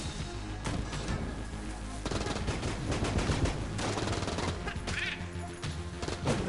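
Dense, continuous automatic AK fire from Enter the Gungeon, rapid shots layered with impacts and game effects, loud and unbroken throughout with no talking.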